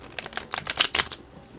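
A Forest of Enchantment card deck being shuffled: a quick burst of crisp, close riffling clicks in a rapid rhythm for about a second, fairly quiet, then stopping.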